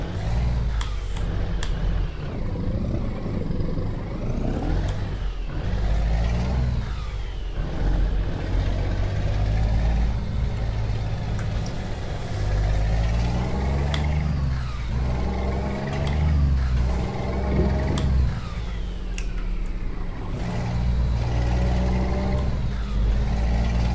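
An Iveco-based truck in the video game Euro Truck Simulator 2, its diesel engine droning steadily and rising and falling in pitch, with several sharp hisses of the air brakes along the way and no talking.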